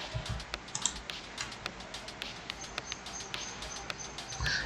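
A password is typed on a computer keyboard in a steady series of light, evenly spaced key taps over a constant background hiss.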